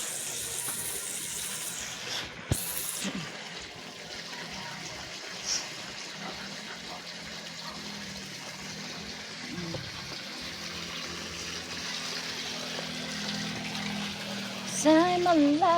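Water runs from a tap at a slow, gentle trickle into a container that is nearly full, a steady soft hiss with a few brief clatters and no talking.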